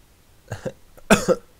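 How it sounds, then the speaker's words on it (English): A man coughs into a microphone during a gaming livestream, two short close coughs followed by a louder double burst, loud and dry with no talking. "coughing down the microphone"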